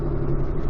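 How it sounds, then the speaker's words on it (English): Dirt bikes passing on a rural desert loop, a steady close engine drone that holds for a moment without pause. "These dirt bikes go by."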